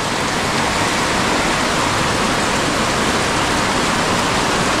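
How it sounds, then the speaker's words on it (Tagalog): Heavy rain pours without pause, a dense, loud, steady hiss with no breaks or voices. "walang hinto yung ulan."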